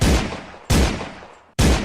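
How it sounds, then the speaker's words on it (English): Three loud gunshots crack nearby outside a courthouse trial scene, each sharp blast trailing off into a short echoing decay, spaced unevenly about a second apart with no talking. "Y'all hear them gunshots?"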